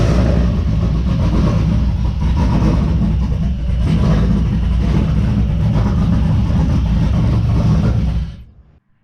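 A car engine runs at its very first start-up, a loud, rough, steady roar for about eight seconds before cutting off abruptly into silence.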